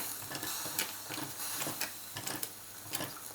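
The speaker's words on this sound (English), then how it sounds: "Okay, we're starting to get some steam out now." Soft hissing with faint irregular ticking and clicking from a restored Mamod Minor 2 toy steam engine building steam nearby, quiet and steady, no voices.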